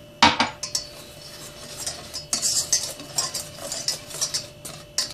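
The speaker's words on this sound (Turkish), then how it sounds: "unumuzu, kakaomuzu ekleyelim. Şöyle güzelce karıştıralım." A spoon scrapes and stirs starch, flour, cocoa powder and sugar together in a pot for homemade chocolate pudding, with irregular clinks and scrapes against the pot that come close and fairly clear, with no talking.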